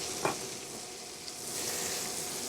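Butter with garlic, thyme and rosemary sizzles and spits steadily in a hot metal steak pan, close up, with a couple of brief utensil clinks and the frying growing slightly louder.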